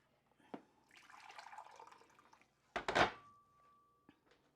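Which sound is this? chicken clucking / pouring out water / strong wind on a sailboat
pouring out water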